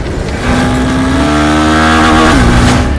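Honda Hornet 2.0 motorcycle engine revving hard on the throttle, a loud, close, continuous rising roar that holds steady with shifting pitch for about three seconds, no talking.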